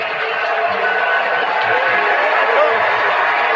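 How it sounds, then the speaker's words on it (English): A stadium crowd at an NFL game, Texans at Chiefs at the 2020 kickoff, roars as a dense, loud mass of voices, with booing blended into a constant wash of noise. "Yeah, they're booing."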